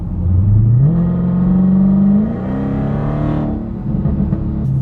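A loud, throaty Dodge Challenger Hellcat V8 with its muffler deleted and DynoMax Race Bullets fitted revs up in stages, the pitch climbing and holding before easing back to a rough, rumbling idle, with no talking.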